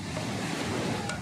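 Ocean surf washes in a continuous rushing roar at the seaside, with wind buffeting the microphone throughout the short stretch.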